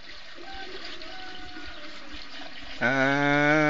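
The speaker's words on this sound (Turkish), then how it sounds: "Köstebek deline mi döküyorsun bunu?" Water poured into a mole hole outdoors, a soft steady splashing and trickling that swells into a louder gurgling, filling rush near the end.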